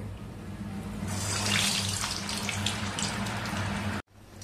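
Fasting-style medu vada fry in hot oil with a loud, continuous crackling sizzle that swells slightly partway through, then cuts off abruptly just before the end before resuming faintly.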